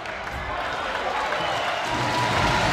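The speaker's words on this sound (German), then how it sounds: "Applaus erneut in der Arena" Sustained applause from the crowd in a women's Bundesliga volleyball arena, a steady wash of clapping and crowd noise that swells slightly toward the end.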